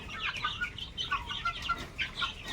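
Dong Shao Bo chickens cluck and murmur close by in short, uneven bursts, several birds calling over one another against a quiet background.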